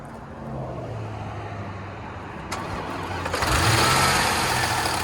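Supercharged 5.0-litre L322 Range Rover V8 after a stone-dead battery, a low cranking hum giving way to a sudden catch and a louder, steady engine roar at idle, close by and without talk.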